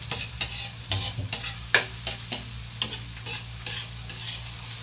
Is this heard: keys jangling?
no